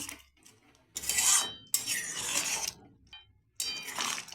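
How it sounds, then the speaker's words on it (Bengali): Prawns with green chillies and mustard oil are stirred in a pan, heard as three separate bursts of close metallic scraping and clattering between short quiet gaps, with no talk. "আমি ভালো করে নাড়াচাড়া করে নেব"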